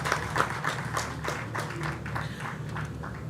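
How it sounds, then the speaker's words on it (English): A large audience at an aviation week gathering gives another warm round of applause, steady overlapping clapping that holds at an even level from start to finish. "Celebrate them again with another warm round of applause."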